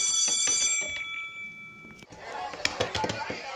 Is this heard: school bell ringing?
yes